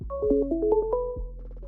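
A phone ringtone for an incoming call to a radio show plays a short rising and falling electronic melody, clear and close, alone without talk.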